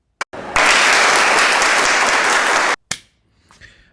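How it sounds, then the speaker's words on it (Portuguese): Lecture audience breaks into loud, dense applause for about two seconds, cut off abruptly, followed by a brief rustle and faint room noise. "Uma salva de palmas para esse senhor."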